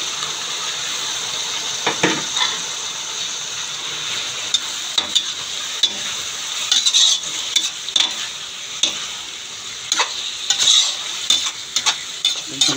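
Squid for spicy adobo fries loudly in a pan, with a constant crackling sizzle and repeated scraping, rattling stirs throughout.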